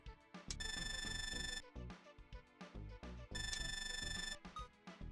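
Phone ringing in the video game Devil Survivor Overclocked, an electronic ringtone in two bright, sustained bursts with a short gap between them, set against game music.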